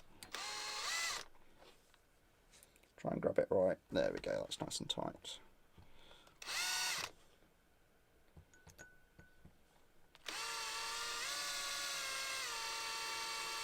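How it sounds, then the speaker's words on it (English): Power drill starting a hole with light pressure in a home workshop, several short whining bursts separated by pauses and handling clatter, ending in a long steady run; someone talks between bursts. "just let the drill do the work"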